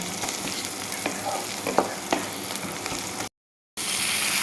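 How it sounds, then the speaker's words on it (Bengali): Onions frying in a pan until brown, with a steady crackling sizzle, a few scrapes of stirring and a brief silent gap near the end. "আমি পেঁয়াজ বাদামি কালার করে নিই"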